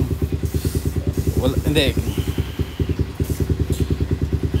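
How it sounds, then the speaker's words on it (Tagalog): Enduro motorcycle engine idling steadily after a push start, a close, loud, rapid even putter throughout, with someone talking over it and a brief hiss midway. "Kala ko yan po, okay na po ang ating motor. Umaandar na sa push start."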